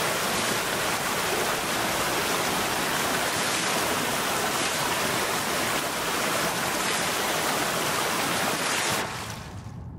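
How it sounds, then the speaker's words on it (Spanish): A waterfall in the video game Lost Ember pours as a steady, dense roar of rushing water, loud and constant, thinning out sharply at the very end. "¡Ay, cascada!"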